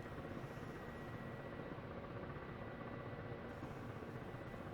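Ka-50 coaxial attack helicopter in the DCS flight simulator, engine and rotor droning steadily and evenly at moderate level as throttle is applied, with no talk over it.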